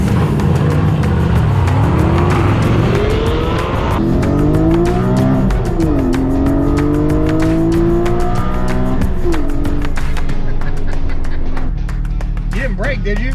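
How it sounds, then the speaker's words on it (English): A 1.8 turbo car accelerates hard during a street race, its engine revving up through several gear changes with rising pitch, loud and close, while people talk over it. "We're about to get tickets for street racing."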